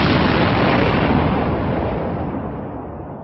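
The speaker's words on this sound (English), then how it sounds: "That sounds like an explosion." A loud explosion sound effect played from a DJ soundboard: one sustained, rumbling boom that fills the clip and slowly fades, with no voices over it.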